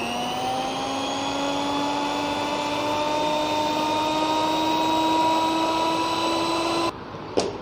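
A motorised mixer churns a hydrogen peroxide tile cleaner with a steady, high electric whine that rises slightly in pitch, running loud and unbroken before it cuts off near the end, followed by a brief knock.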